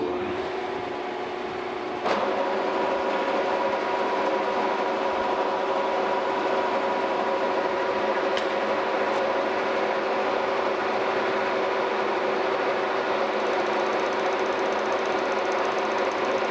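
A horizontal mill bores out a cane mill bearing with a steady, even machining drone and a fine cutting hiss. A sharp tick marks the cut engaging, and a faint click follows later.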